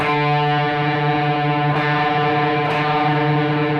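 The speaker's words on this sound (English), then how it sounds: "He's actually playing two notes and bending one of them so that it actually goes a little out of tune." A sustained, distorted electric guitar tone from a song, two notes with one bent slightly out of tune, beating to give a wavering, eerie siren-like drone.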